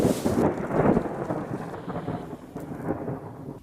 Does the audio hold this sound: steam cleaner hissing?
no